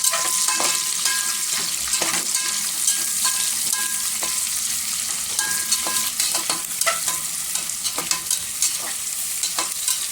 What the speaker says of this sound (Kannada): ಚೆನ್ನಾಗಿ ಫ್ರೈ ಆಗಲಿ ಈರುಳ್ಳಿ ಬ್ರೌನಿಶ್ ಬರಬೇಕು